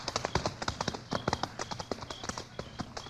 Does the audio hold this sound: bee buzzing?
no